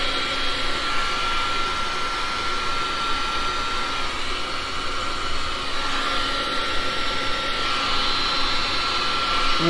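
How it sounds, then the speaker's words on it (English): Air blown over a gold resin pour with a hair-dryer-like blower, a steady, loud whooshing roar with a faint whine that holds evenly throughout. "Let me just blow out this gold a little bit."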